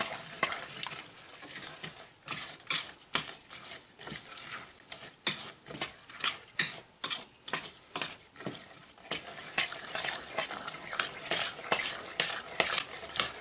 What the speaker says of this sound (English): So all I'm going to do now is just mix this stuff up.